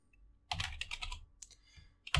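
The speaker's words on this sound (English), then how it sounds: "So we can do that with simply just typing right here" Typing on a computer keyboard while entering code, short bursts of clicky keystrokes in close clusters with brief pauses between them, fairly near and alone.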